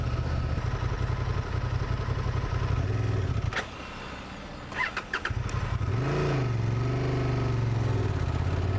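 Honda Transalp motorcycle engine rumbling loud and close in second gear during stop-start riding, dipping quieter mid-way as the throttle closes, then pulling back up with revs rising and falling; no talk.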